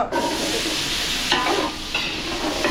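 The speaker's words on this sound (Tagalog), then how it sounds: "Okay mga belly, patatas, saka carrots, so gigisa muna natin." Pork belly, potatoes and carrots sautéing in a pan at an outdoor garden wedding cook-up in Mexico, Pampanga, a steady close sizzle broken by a couple of scraping stirs.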